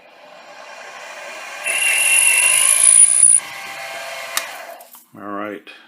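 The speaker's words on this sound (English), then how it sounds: "We'll go ahead and drill that out." A short screw machine drill bores a hole in thin metal, a rising whine of about two seconds that stops abruptly, followed by faint clicks and a brief voice near the end.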